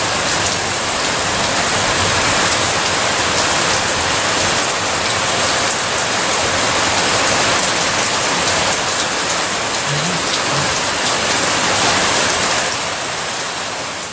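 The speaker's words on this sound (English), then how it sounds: "we had our first thunderstorm on our last night." Heavy rain pours steadily through a night thunderstorm on Isle Royale, a loud, dense, unbroken hiss of drops hitting surfaces close by for the whole stretch, with no talk.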